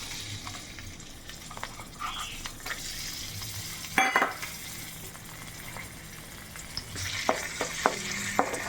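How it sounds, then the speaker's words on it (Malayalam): Curry leaves and coconut pieces fry in hot coconut oil with a steady low sizzle and crackle, punctuated by a burst of spattering and a run of utensil clinks and scrapes near the end. "നമ്മുടെ വെളിച്ചെണ്ണ ചൂടായിട്ടുണ്ട്. അതിലേക്ക് ഒരു വേപ്പില ആദ്യം വേണം, നമുക്കിതിട്ട് കൊടുക്കാം."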